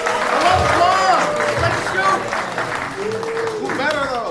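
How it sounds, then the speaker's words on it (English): An outdoor evening event's audience claps and cheers in a broad, sustained wash of applause, with voices shouting and talking throughout. "please clap."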